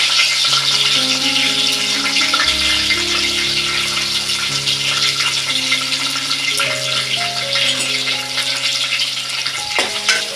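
Onion with crushed garlic and curry leaves sizzles loudly and steadily in a hot pan for horse gram sambar, a continuous close frying hiss with occasional stirring and no voices.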